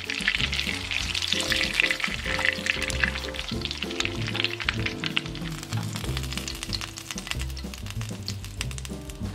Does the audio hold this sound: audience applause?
no